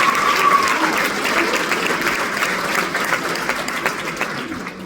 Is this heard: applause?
yes